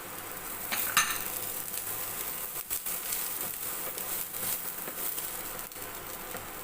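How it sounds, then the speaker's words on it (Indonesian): Onions frying in a pan while being stirred, a steady crackling sizzle with scraping strokes and a few sharper clicks, close and even. "Masak bawangnya sampai layu dan agak menguning ya, biar baunya harum."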